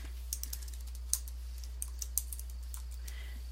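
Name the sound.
typing a file name on a computer keyboard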